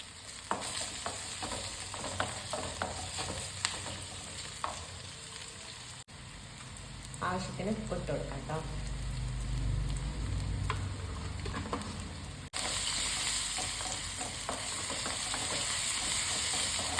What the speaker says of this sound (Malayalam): നമ്മുടെ ഉള്ളി ഇഞ്ചി വെളുത്തുള്ളിയൊക്കെ ഒന്ന് മൂത്ത് വന്നിട്ടുണ്ട്